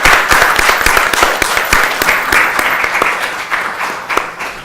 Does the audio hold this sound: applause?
yes